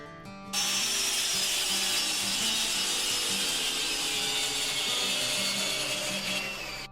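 A cordless drill-driver, a Parkside PSBSA 20 Li or Ryobi R18PDBL, drives a long 8×260 screw into wood with a loud, steady whirring grind that runs unbroken for several seconds and stops at the end.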